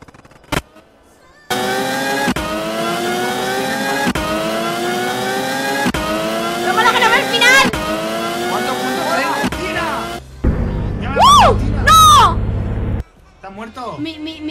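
A Ferrari in the Roblox game Dropper revs its engine in sustained, rising game-engine tones with repeated gear-like surges, then a brief squealing burst near the end. A player's voice yells briefly over it.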